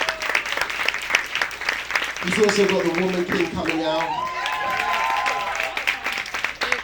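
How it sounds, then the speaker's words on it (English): An audience applauds at a talk, brief scattered clapping mixed under a voice that speaks nearly throughout, with some other brief sounds in the middle. "give a round of applause for that"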